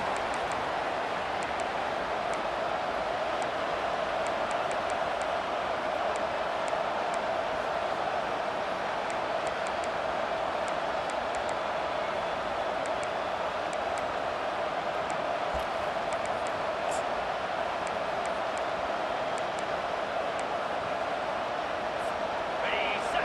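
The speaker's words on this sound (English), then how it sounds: "It's early, but this crowd is fired up. Listen to this noise here." A large stadium crowd in the video game EA Sports College Football 25 roars continuously as a dense, unbroken wall of noise, steady in volume, with occasional faint clicks on top.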